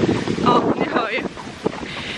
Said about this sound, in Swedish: Det är regnigt och det är blåsigt. Ja, ni hör ju.